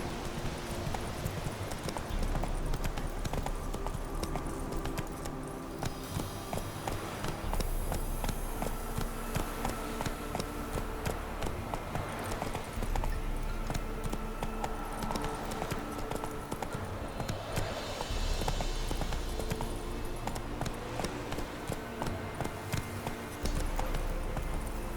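Roach, the horse from The Witcher 3, runs with continuous rapid clip-clop hoofbeats, close and steady throughout, over a dense layer of game music and ambient noise.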